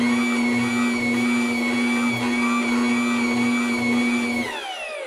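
A Bear dough maker kneads bread dough for dinner rolls, its motor giving a loud, steady whine with a strong hum and a rhythmic churning thump underneath, winding down near the end.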